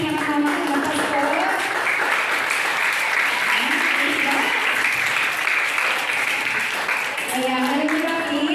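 Sustained applause from a church congregation at a children's Vacation Bible School, steady and loud throughout, with voices and cheering carrying over the clapping.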